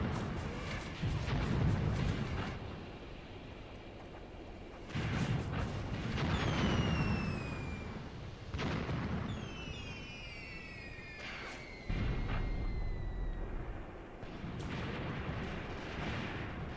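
Gunfire and artillery in the war game Graviteam Tactics: deep rumbling booms and distant explosions roll out at intervals, with whistling shell sounds sweeping down between them.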